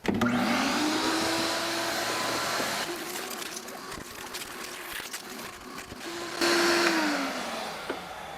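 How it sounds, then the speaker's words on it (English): A vacuum cleaner with a crevice tool roars loudly and steadily while cleaning leather car seats, its whine shifting pitch as the nozzle is pushed into tight spots, with rattling suction noises in the middle. "I'm gonna go ahead and fire on the vacuum and vacuum it out"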